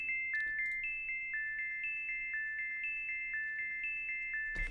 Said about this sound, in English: so you can hear there's a little bit of a delay there